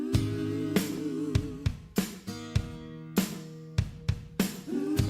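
A hit song plays as full-band music with steady chords and rhythmic hits, loud and clear with no talking.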